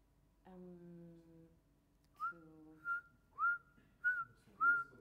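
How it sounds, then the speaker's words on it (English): Someone whistles a short, quiet tune of sliding, rising notes, starting with a hummed tone and ending in several brief chirpy phrases. "Whistling, yeah."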